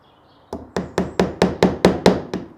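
Nails hammered into a wooden log cabin window frame: eight sharp, evenly spaced strikes, close and loud, each with a short ringing decay.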